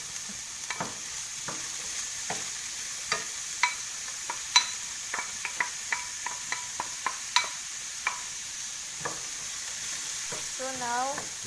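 Onions and carrots fry in a pan with a steady soft sizzle, while a utensil stirs and scrapes in irregular clicks and taps, close and fairly quiet.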